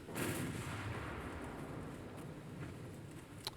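10-inch naval guns fire in the warship game Ultimate Admiral: Dreadnoughts, producing a continuous, dense roll of heavy booms and rumbling blasts with no pauses.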